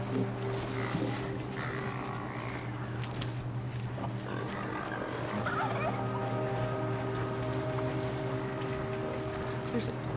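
A turkey gobbles in the game Horizon Zero Dawn, with short warbling calls over a steady low droning hum while someone talks throughout.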